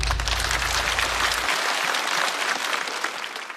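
A stand-up comedy audience applauds after a comedian's set, with loud, dense clapping that holds steady and then starts to fade toward the end.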